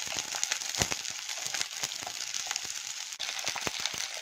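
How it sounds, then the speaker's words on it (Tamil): Ten to twelve garlic cloves and about thirty whole shallots frying in hot oil in a pan, a soft steady sizzle and crackle with occasional stirring clicks, fairly faint and without speech. "ஒரு நிமிஷம் ஃப்ரை பண்ணிக்கோங்க"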